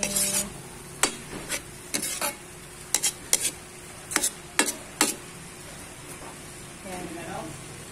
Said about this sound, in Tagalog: Nagluluto po ako ng lumpiang gulay. Mayroon po siyang oyster sauce.